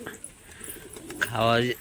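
Pigeons on a rooftop on a rainy day give a single clear, close coo near the end, after a stretch of faint background noise.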